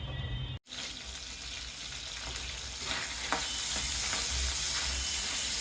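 Shrimp fried in oil and stirred with salt, a loud continuous close-up sizzle with scraping stirring strokes and a few sharper clinks, after a short quieter moment near the start.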